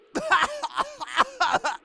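A cartoon character coughs and sputters in a quick, raspy burst of several rough, voiced hacks, close and clear.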